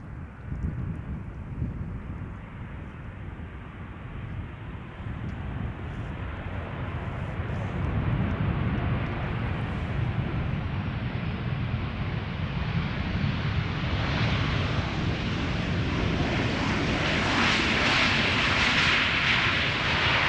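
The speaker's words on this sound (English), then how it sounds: "Typical KLM style landing." A 21-year-old KLM Boeing 737-800 lands at Schiphol Airport with a loud, steady roar of engine and rushing air that builds slightly toward the end, heard alone with wind noise and no talk.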